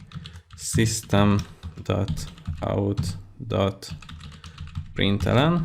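Typing on a computer keyboard while writing a first Java program, soft key clicks running beneath a voice that speaks almost continuously throughout.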